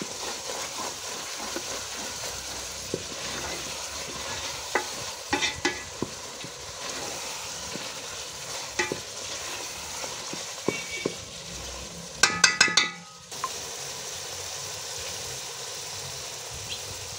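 Chicken pieces frying and being stirred in masala in a pan for tinda gosht, a continuous sizzle with scattered clicks and scrapes and a short burst of rattling near the end, close up, no talking.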